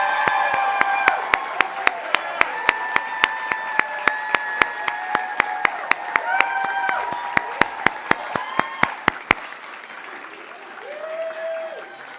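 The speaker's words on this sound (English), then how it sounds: "Everyone, please join me in a huge round of applause for the 2023 graduates of the Sahi program." An audience at a higher education hooding ceremony applauds the 2023 graduates, sustained crowd clapping under tonal music, a sharp regular click beat running through most of it, then the music carrying on alone as the clapping fades near the end.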